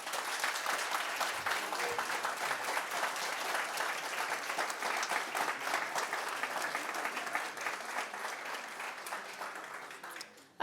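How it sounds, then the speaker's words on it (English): Audience applause at a climate reparations debate, steady and dense throughout, a broad wash of many hands clapping that carries on for about ten seconds before cutting off. "Can we have a show of support for the team that argued against the motion?"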